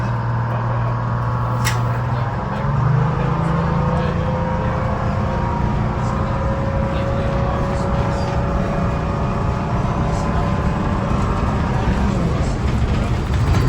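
A GM transit bus of the New Look era drives past outdoors in the rain, its engine a steady loud drone with a rising whine throughout, passing traffic noise mixed in.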